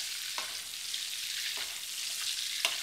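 Lamb sears in a hot pan with butter and oil, giving a steady loud sizzle broken by a few sharp spits and crackles as the fat is spooned over the meat.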